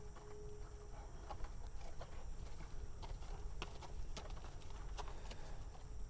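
Horses being moved to new pasture walk with faint, irregular hoof clops over steady outdoor background noise. The sound is distant and quiet, and there is no clear talking.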